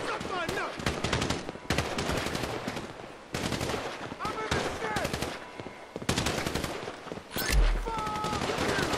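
Rapid automatic gunfire from the video game GTA V rattles in dense bursts with brief pauses, loud and close, alongside explosive thuds and intermittent shouting voices.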